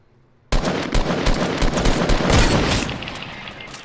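In the Fortnite video game, automatic gunfire starts abruptly after a moment of quiet and then rattles on in loud, rapid bursts, close and unbroken to the end.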